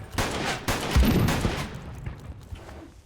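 Enemy gunfire in the Zero Sievert video game: a few loud, sharp shots crack in quick succession near the start, then trail off into a fading rumble with no talk over them.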